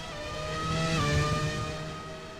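Takuma Sato's Honda Formula One car in the GP4 racing game, its engine holding a high, steady harmonic whine that rises and dips slightly as it passes close and loud.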